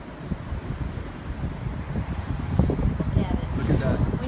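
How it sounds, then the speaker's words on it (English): Strong Hurricane Ian wind buffets the microphone in Florida with a constant rushing roar and gusty swells, while people talk close by over it. "Feel the wind?"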